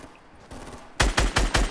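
Gunfire in the Fortnite video game: a faint shot or two, then a loud rapid string of about five close gunshots in a fast rhythm.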